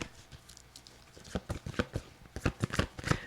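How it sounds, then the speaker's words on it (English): A deck of cards is shuffled up close during a live card reading, producing a rapid, uneven patter of riffling and slapping card sounds that grows busier and louder toward the end. "let's shuffle these cards"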